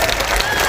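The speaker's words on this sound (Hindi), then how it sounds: "मैं चाहता हूं सब अपने लिए एक बार जोरदार तालियां बजाएं" Crowd at a village Congress political rally in Singar, Mewat, clapping in a steady, dense patter throughout, fairly loud and even, with no clear break.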